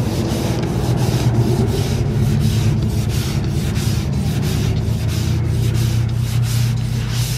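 Hand sanding of a car body panel with sandpaper while blocking primer: a steady, close, continuous scratchy rubbing with rhythmic back-and-forth strokes, with no talk.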